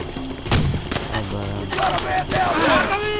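Gunfire in the video game Call of Duty: World at War: a few punchy shots and thuds ring out amid battle noise while someone talks over them.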